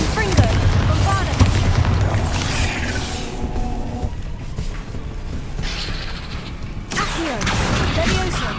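Explosion spells go off in Hogwarts Legacy combat: a string of heavy booms and crashing bursts, loudest at the start and again near the end, with a voice calling out over the action.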